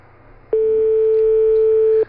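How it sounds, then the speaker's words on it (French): A telephone line tone sounds during a French radio call-in show, a single loud, steady electronic beep that lasts about a second and a half above a quiet background. "Ah, ça sonne."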